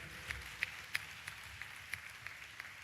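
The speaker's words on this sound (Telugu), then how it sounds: "చప్పట్లు కొడుతూ స్తోత్రాలు చెప్పు" A church congregation claps steadily and rhythmically during a Telugu sermon, with sparse, even claps about three per second, faint and distant over a low room hum.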